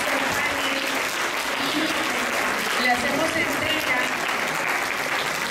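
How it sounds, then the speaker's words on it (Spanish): Loud, sustained applause from a conference audience at a psychopedagogy panel fills the room in a thick, even roar of many clapping hands, while a voice speaks briefly over it. "Démosle un fuerte aplauso."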